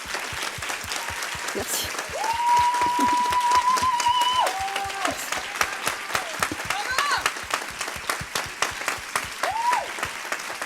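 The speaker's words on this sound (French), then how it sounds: "vous avez encore envie de l'applaudir" An audience claps in steady, sustained applause that rises in the middle and thins to scattered claps toward the end, while a voice speaks briefly over it.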